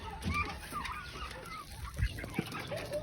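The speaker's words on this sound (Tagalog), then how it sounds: "eto na yung maliliit na sisiw na inaalagaan ko" Hens and small chicks cluck and peep close by in a backyard flock, soft irregular calls over a faint rural background.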